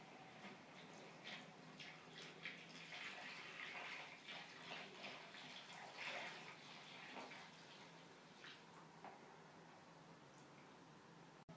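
Water pours and splashes into a cooking pot to cover pieces of meat seasoned with masala, saffron and salt, a steady close filling sound that rises and falls over several seconds with no talking.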